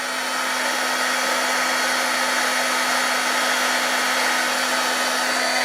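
A heat tool blows hot air over mica powder, giving a steady, loud whirring blast with a constant motor hum that holds unchanged from start to finish, with no voices.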